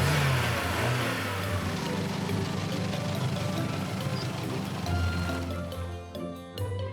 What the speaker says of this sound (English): The yellow tow truck will take the vegetable van to the repair shop.